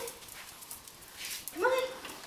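A dog gives a short, rising whine or yelp near the end, after a quiet, hissy stretch.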